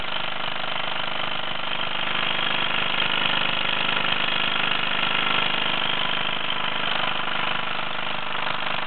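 A 1948 Mamod SE1 flat-base steam engine drives a pair of cast iron pedestal tools, a grinder and a polisher. It makes a steady, continuous close-up whirring hiss that holds an even level throughout, with no voices.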